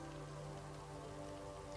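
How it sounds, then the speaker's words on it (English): Rain in the city-builder video game Against the Storm, a steady wash of falling drops over a low tonal game hum, constant and even with no voices. "Is it because it's raining?"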